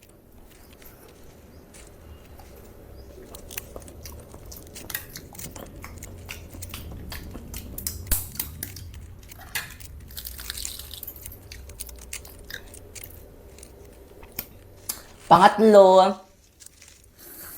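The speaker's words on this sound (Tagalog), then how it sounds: "So let's eat." Someone eats and chews food, with soft wet chewing and crunching under steady talk, and a louder burst of sound near the end.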